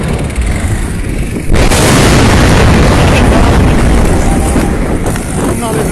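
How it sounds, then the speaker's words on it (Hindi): Loud roaring blasts and fire from a burning Shell petrol pump at Shahdara Mor in Lahore, a sudden powerful surge around the middle that keeps rumbling heavily until the end. "धमाके शाहदरा मोड़ पे"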